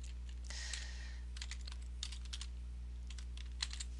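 Keys clatter on a computer keyboard as a tender type label is typed into FireFly POS setup software, short bursts of close, crisp taps with brief pauses between them and no talking.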